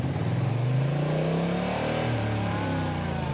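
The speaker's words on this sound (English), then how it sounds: "if you open the throttle now, all you'll do is bounce it off the rev limiter in first gear" A Honda DCT motorcycle engine held in first gear bounces off its rev limiter, a loud, continuous high-revving drone with the pitch climbing and wavering close by.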